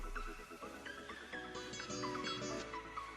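A smartphone ringtone: a bright electronic melody of rising chimes plays, with repeated high tonal notes and a sustained chordal passage midway, fairly clear and close.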